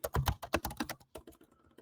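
Fast, uneven typing on a computer keyboard while entering a business software query, close and crisp clattering bursts that thin out toward the end.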